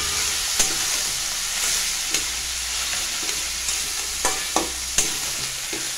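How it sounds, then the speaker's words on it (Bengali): Shredded cabbage stir-fried in hot spiced oil in a pan, a steady bright sizzle broken by several sharp scraping clicks of the spatula against the metal, close and without talk. "এবার এটা ভালো করে নাড়াচাড়া করে নিচ্ছি।"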